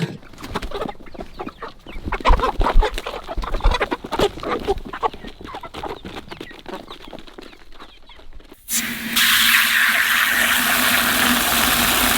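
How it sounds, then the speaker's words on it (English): A crowd of ten-week-old chickens begging for food clucks and chatters busily up close, then a steady loud rushing noise takes over for the last few seconds. "These chickens get fed plenty, and man, they beg every time I see them"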